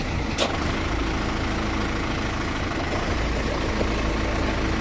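A tractor engine runs steadily at idle-like speed with its PTO engaged in forward, a constant low rumble close by with no talk.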